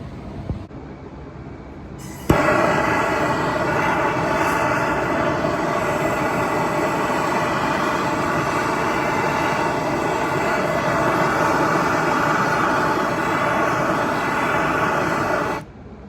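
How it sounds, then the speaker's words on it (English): A MAP gas torch roars steadily while preheating a cracked wheel for welding. After a brief quieter start, the flame bursts in at full strength and holds a loud, continuous, close-up rush with no talking. "I'm just using the MAP gas, and I'm preheating the wheel so that way it welds and gets better penetration"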